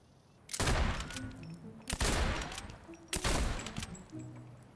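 Three separate bursts of rapid gunfire from the video game Fortnite crack out at roughly one-second intervals, each loud and sharp and trailing off into a fading rumble, with no talk over them.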